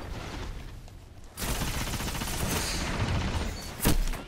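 Sustained full-auto fire from the Necrochasm exotic auto rifle in Destiny roars continuously for several seconds after a brief quieter lead-in, with a sharper blast near the end.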